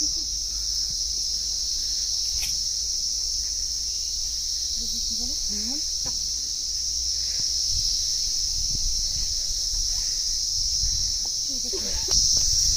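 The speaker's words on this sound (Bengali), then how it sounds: "এই দেখো ভীষণ ঝিঝি পোকার আওয়াজ।" Crickets on a hilltop shrill in a loud, continuous high-pitched drone that never breaks, close and dominant, with faint rustling and brief thin chirps beneath and a voice speaking softly at moments.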